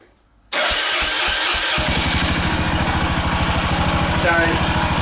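Royal Enfield Himalayan motorcycle with a modified exhaust and air filter mod cranking into life after a brief silence, then settling into a steady, close, loud thumping idle with rhythmic exhaust pulses.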